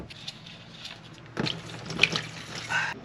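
Engine oil draining from the oil pan of a BMW X5 E70 during an oil change, a steady close liquid splatter and trickle with a few louder splashes toward the end.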